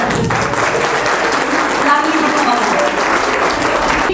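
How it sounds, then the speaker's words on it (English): A preschool class presentation audience in Aliganj, Lucknow applauds, a dense, loud, steady wash of clapping that carries on without a break. "Bigger round of applause."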